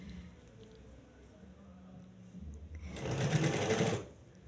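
A sewing machine stitches collar fabric up to a cut in one short, close burst of about a second after a quiet stretch of handling.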